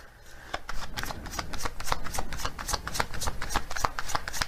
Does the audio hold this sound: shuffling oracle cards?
yes